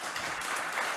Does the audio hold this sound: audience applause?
yes